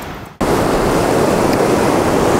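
Evening sea surf on a sandy beach at Kuchugury, a loud, close, continuous rushing wash of waves that starts abruptly after a brief quieter moment and holds steady throughout.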